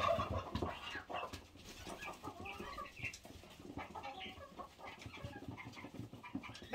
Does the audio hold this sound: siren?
no